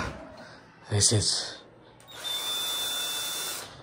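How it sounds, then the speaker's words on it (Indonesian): A power drill bores a larger hole in a PC case for fan screws, with a short whirring burst and then a steady, sustained high-pitched spin, close up in a quiet room. "kita bor aja biar lubangnya lebih gede"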